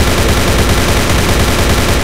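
Gunfire in Roblox's Ray's Mod, a loud, close, unbroken rapid stream of automatic shots that run steadily for about two seconds without a pause, with no voices.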